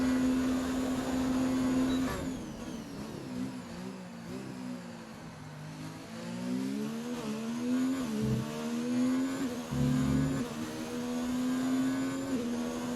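Race car engine in a video game, driving down the main straight at the Bahrain circuit on a hot lap, a steady high-pitched drone that rises and falls with gear changes and revving, loud and continuous throughout.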